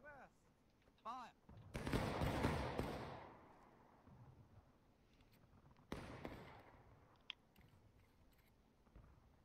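Musket volley in the War of Right video game: a ragged crackling burst of many shots lasting a couple of seconds, then a second, shorter volley and a few isolated single reports, with faint voices around it.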